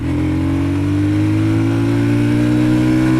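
Sothassi Classic 400 motorcycle engine on a test ride, pulling loud and steady uphill with its drone rising gradually in pitch, close and with no talk over it.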